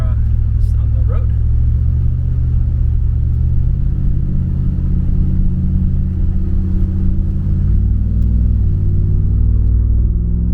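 An off-road overland vehicle on a Baja winter trip crosses a flooded river, its engine rumbling loud and close with a low steady drone that rises near the end, with water sloshing around it.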